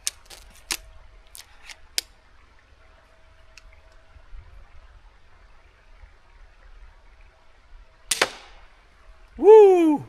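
A Man Kung Alligator crossbow fed from a 7-bolt magazine fires several sharp, separate snaps spread across the clip, with quiet gaps between them and one louder swooshing burst near the end.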